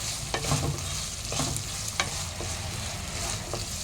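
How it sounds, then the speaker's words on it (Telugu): Raw peanuts frying in a pan, giving a quiet, continuous sizzle with a few soft scrapes as they are stirred. "పచ్చి పల్లీలు వీటిని కూడా బాగా ఫ్రై చేయండి"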